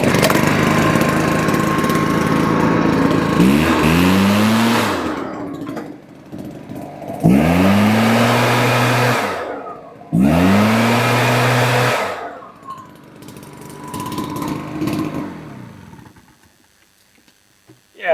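A Stihl BR380 backpack blower's two-stroke engine runs loud and steady, with three distinct throttle-up bursts separated by brief idle dips, then settles to a quieter idle before fading out.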